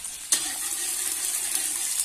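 Garlic and onion fry in a pan with a steady, dense sizzle and crackle, and a sharp pop or stir-clank cuts in near the start. It stays close and even throughout, with no talk.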